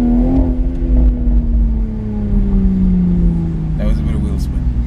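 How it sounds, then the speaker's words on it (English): A 2019 BMW Z4 M40i with its Supra-shared engine accelerates hard from inside the cabin, a loud droning engine note rising as the wheels briefly spin, with a voice talking over it. "it just let the wheel spin up a little bit"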